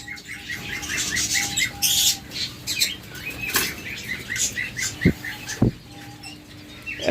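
Budgerigars and lovebirds kept for sale chirp in quick, repeated tweets, several birds calling over one another nearby, with a few sharp clicks and bumps mixed in.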